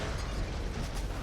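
A tank blowing apart in a video game, a dense, sustained explosion burst roaring for about a second with no talk over it.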